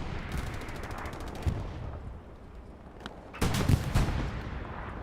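Tank cannon firing high-explosive rounds in the World War II shooter Hell Let Loose, heard as a cluster of sharp blasts early on, then a louder, heavier burst of booming shots near the end over a low battlefield rumble.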